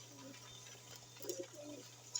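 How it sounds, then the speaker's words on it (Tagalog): Pigeons eating outside, faint soft cooing in short bursts over a steady low hum in a quiet setting. "itong ibon natin na hinayaan muna natin magsikain sa labas"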